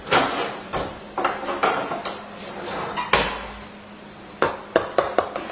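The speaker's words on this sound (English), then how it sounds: "Just to cut through that beautiful cheese crust." A knife cuts through the baked cheese crust of a potato and bacon tartiflette in its dish, giving a series of uneven metallic clinks and scrapes against the dish, close and fairly loud.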